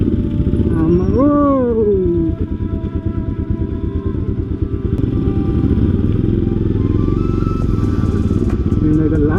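Several motorbikes and scooters ride an extreme offroad route toward Pokhara, engines droning loudly and continuously up close, one sweeping up and down in pitch as it revs, with clattering over rough ground.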